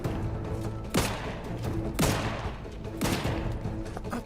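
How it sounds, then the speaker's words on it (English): Gunfire in The Outer Worlds 2, heard as three heavy shots spaced about a second apart over a steady layer of game background noise, with no voices. "Who's shooting at me now?"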